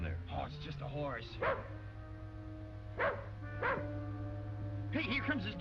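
A dog in an old western TV scene barks in several sharp bursts, close and fairly loud, over a steady low hum and background music.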